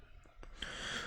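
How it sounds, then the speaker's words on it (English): A basset hound snorts indoors, giving a short, faint nasal puff followed by a longer breathy snort, close by and quiet with no talking. "Sorry, that's my dog. I had a little basset hound"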